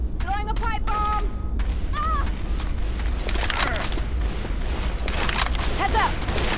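Gunfire in a zombie co-op video game, with a pipe bomb thrown amid the shooting; dense, rapid crackling shots and bursts run throughout while a character voice calls out briefly over the noise.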